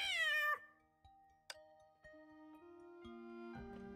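A cartoonish cat meows several times in the Honkai video game, a clear, close, high pitched meow followed by short chirpy tonal calls and a rising final mew, with no talking.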